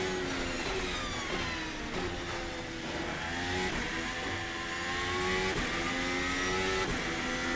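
A Formula 1 car engine in the Assetto Corsa racing game hums at steady revs with gentle rises and dips over several seconds. It is heard up close from the cockpit with no voices.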